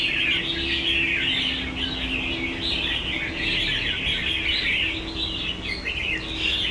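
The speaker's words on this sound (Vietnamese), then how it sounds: "Đó còn con chim thì cái phách của nó thực sự quá là tốc độ anh em ạ." A red-whiskered bulbul sings a fast, continuous run of bright, high chirps and trills, close and clear over a faint low background hum.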